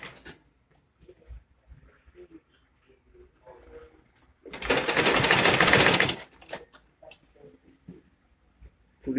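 A sewing machine stitches elastic onto an Ankara fabric flat cap, a close whirring run of about two seconds in the middle, with soft handling clicks and rustles of the fabric before and after.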